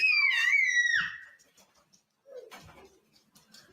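A young child lets out one piercing, high-pitched scream lasting about a second, followed by quiet and then faint, brief voice sounds close by.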